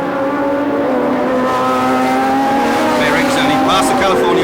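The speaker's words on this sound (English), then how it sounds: "It's an extraordinary scene, isn't it, to see these cars racing in the streets." 1976 Formula One cars race through the Long Beach street circuit, a loud steady engine drone with rising harmonics that persists throughout while a voice talks over it.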